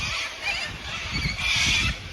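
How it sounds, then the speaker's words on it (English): Morning birds in Cohuna, Victoria, Australia, call in a dense, noisy chorus of overlapping squawks and honks, continuous and fairly loud, with no talking. "the birds go crazy, as you can still hear"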